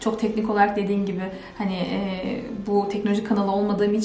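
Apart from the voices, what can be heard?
No everyday noises stand out.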